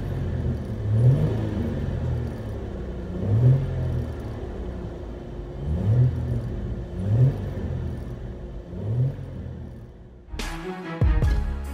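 A 2000 Ford Mustang V6 with Flowmaster Super 44 true dual exhaust, X-pipe and K&N intake rumbles with repeated revs rising and falling in a steady pattern, deep exhaust tone heard from inside, ending with a sudden shift.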